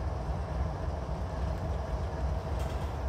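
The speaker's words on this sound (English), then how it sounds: "We just had a train on emergency right here." A CSX freight train stopped on emergency gives a steady low rumble and hiss of rail cars, continuous and fairly close, with no voices.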